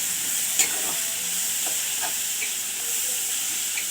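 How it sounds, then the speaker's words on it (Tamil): Onions sautéing in a pan with salt for a potato masala, an even close sizzle with a few soft pops and light stirring scrapes, no speech. "அப்படியே கொஞ்ச நேரம் வதங்கட்டும்"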